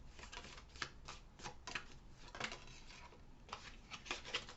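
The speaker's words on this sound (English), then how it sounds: "let's just get some more cards" Tarot cards are shuffled and drawn close up, with quick papery slaps and riffles in uneven bursts over a faint hiss and no speech.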